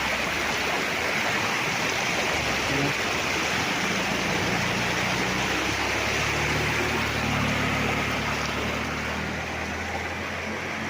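Clear, cool river water rushes and gurgles beside a farm lot in Real, Quezon, a constant close-up broadband roar that stays steady throughout with no voices.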